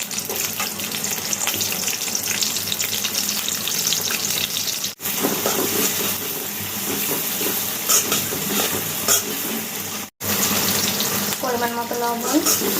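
Chopped onion and chili fry in oil in a wok for a jackfruit seed and prawn curry, a loud, steady crackling sizzle with stirring scrapes, broken by two brief cuts.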